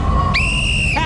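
A sharp, shrill whistle blast sounds once and holds for about half a second to start a race on a retro TV game show, loud over crowd noise and studio background.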